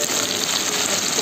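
Garlic sizzling in hot oil in a home kitchen while a bamboo shoot pickle is made, a steady dense hiss that holds even and close throughout with no pauses.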